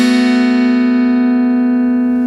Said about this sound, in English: I'm going to play this with the back of my middle fingernail